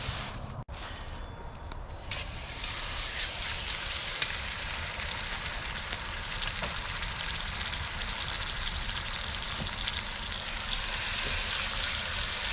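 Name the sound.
rib roast searing in cast iron Dutch oven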